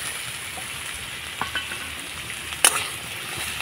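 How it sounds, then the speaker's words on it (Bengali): Chopped carrot and capsicum fry in a pan for a stuffed tiffin snack, a constant low sizzle with a few light stirring taps and one sharp clink of utensil on metal, and no voices. "ক্যাপসিকাম কুচিটা আর গাজর কুচি নাড়াচাড়া করে একটুখানি ভেজে নেব"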